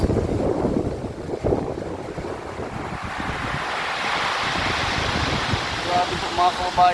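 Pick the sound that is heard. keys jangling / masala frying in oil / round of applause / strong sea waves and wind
strong sea waves and wind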